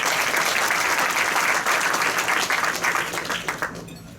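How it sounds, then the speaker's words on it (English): Audience applause at a Rotary Club of Hickory meeting, a dense, fairly loud round of clapping from a roomful of people that holds steady, then thins and fades out near the end. "How about a round of applause for them as well?"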